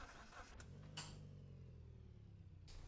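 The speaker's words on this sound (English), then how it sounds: "Start the engine." A race car engine in the Skip Barber racing game cranks and fires up, settling into a low steady idle hum after a couple of sharp clicks, with a brief rise at the end.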